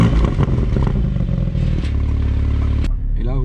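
A 2019 Porsche 718 Spyder with a 420 hp engine starts up on a Scottish road and settles into a loud, rumbling idle close by, with a brief whirring sound at the end.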